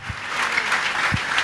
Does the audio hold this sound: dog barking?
no